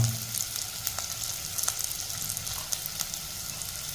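Garlic and green chillies sizzling as they fry in a pan: a steady, soft crackle with scattered sharper pops, continuous and fairly quiet, with no voices.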